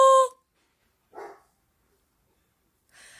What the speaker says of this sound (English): so my dog's barking.